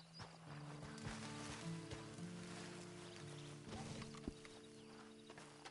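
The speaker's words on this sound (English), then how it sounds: "Then you better get on this horse." Horse hooves clip-clop at a walking pace in Red Dead Redemption 2, a steady rhythm of close hoof knocks over a low sustained musical drone, with soft shuffling in the background.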